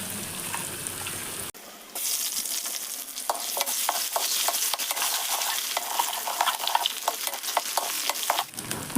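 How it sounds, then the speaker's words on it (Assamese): Potatoes fry in hot oil reused from frying rohu fish, giving a steady loud sizzle that jumps up as they go in, with a few stirring scrapes over the continuous crackle. "মাছ ভজা তেলখিনিতে ভাজিছোঁ"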